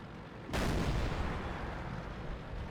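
ISU-152 tank in World of Tanks fires its cannon once, a sudden loud boom followed by a rumbling tail that slowly fades over the next two seconds.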